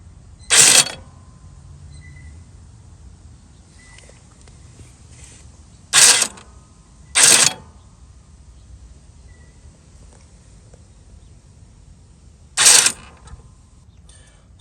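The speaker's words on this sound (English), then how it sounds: "Let's see if it's unlocking and locking the brake mechanism." The brake mechanism on a Toro TimeCutter mower unlocks and locks in four short, sharp metallic clacks spread over the quiet stretch, two of them close together, with faint background hum between.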